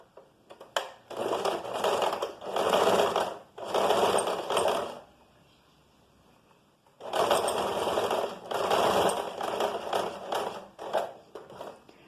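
A sewing machine stitches a closing seam just under one centimetre wide in two loud, close bursts of whirring needle action separated by a short quiet pause.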